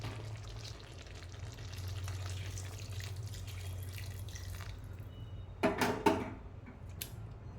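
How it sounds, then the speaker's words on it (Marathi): Steady sizzling of chicken curry in a pan, then a short splashy burst of hot water pouring in near the end, followed by quieter bubbling. "यामध्ये आपल्याला थोडंसं गरम पाणी ॲड करायचं आहे"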